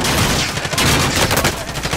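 Rapid bursts of video game gunfire fill a stairway firefight, with dense overlapping automatic shots and explosions at steady loud level throughout, no talk over it.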